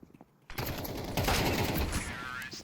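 Rifle shots in the tactical shooter Counter-Strike 2 during a professional match, a sudden loud burst of rapid gunfire after a quiet moment that continues as a dense, sustained volley under faint commentary.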